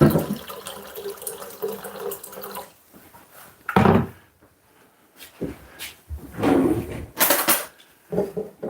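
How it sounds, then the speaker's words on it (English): Tap water runs into a cooking pot at a kitchen sink. A steady rushing pour fades after a few seconds, then returns in short gushes with clunks of the pot being handled between them. "So we're gonna put some water"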